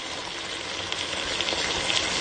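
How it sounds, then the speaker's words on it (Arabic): Meat broth poured into a stew pot of fava bean stew, a steady, fairly loud liquid gush and splash running continuously close by with no talk. "راح نقلبه تقليبة سريعة ونضيف مرقة اللحم"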